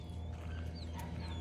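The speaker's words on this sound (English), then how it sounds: "And hear Ellie upset that she can't get to him" A dog whimpers in thin, rising whines, upset that it cannot reach another dog, heard faintly over a steady low hum.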